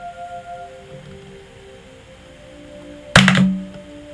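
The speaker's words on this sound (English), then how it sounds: "I took a drink there, but my drink was stuck to my coaster." A drink cup stuck to a coaster is pulled free with a single sharp, loud thunk near the end, after quiet room tone.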